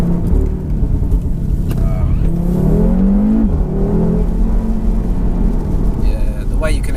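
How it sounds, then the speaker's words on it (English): APR-tuned 440 BHP Audi RS3 accelerating out of a bend, a loud engine roar rising in pitch then easing, heard from inside the cabin with people talking over it. "the way you can accelerate out of bends is just ridiculous"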